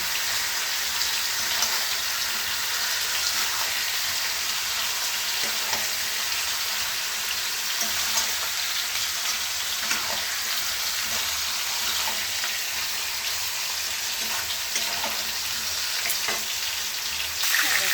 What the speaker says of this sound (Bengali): মাংসের আলুটা ভেজে নিচ্ছি। মাংসটাকে ভালো করে কষে নিই।